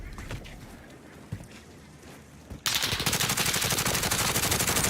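Rapid automatic gunfire in a first-person shooter video game bursts in loud and steady after a quieter stretch of faint game ambience.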